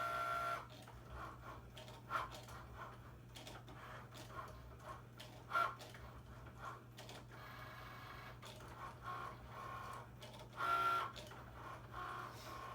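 A Cricut Maker cutting machine drawing on a 12 by 12 mat gives a continuous low whirring hum with soft, printer-like buzzing pulses as the head moves back and forth, close by with a few louder bursts.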